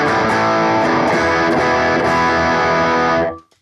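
A distorted electric guitar played through a BOSS GT1000 with a 4x12 Zilla cabinet simulation rings out in thick, sustained chords, loud and up close, before cutting off abruptly near the end.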